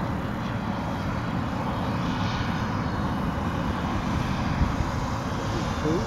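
A Panther model aircraft makes a fly-by pass instead of landing, its engine a steady, fairly loud drone throughout with a slight rise near the middle of the pass.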